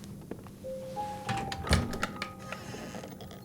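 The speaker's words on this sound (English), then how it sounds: "A secret door." A secret door opens in the PS4 game White Night, with creaking tones, scattered mechanical clicks and a heavy thud midway, moderately loud and with no talk.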